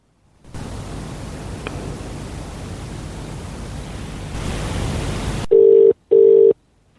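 Telephone call being placed: a long stretch of steady hiss, then two loud, steady ringback tones separated by a short gap.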